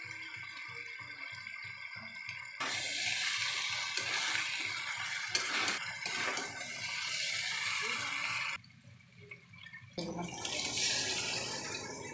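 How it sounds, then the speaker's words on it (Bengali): Water poured into a pan of jackfruit and potato curry cooked with goat fat, a steady rushing splash that starts abruptly, fills most of the stretch, then dips briefly before surging again. "জল ঢেলে দিলাম"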